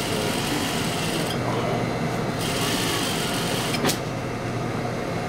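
A sewing machine runs continuously while stitching through the layers of a pants pocket seam, giving a close, steady motor drone with a brief change in texture partway through.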